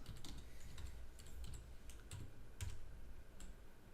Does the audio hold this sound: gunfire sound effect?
no